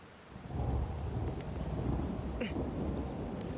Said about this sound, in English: you have, you know, lightning and thunder and all of that